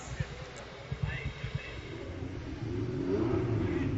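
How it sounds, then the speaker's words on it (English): Ferrari Challenge race car engines at Indianapolis turn over and rev, a few sharp low bursts at first, then a rising sustained roar, somewhat distant under a crowd and announcer's voice. "Drivers, start your Ferrari engines."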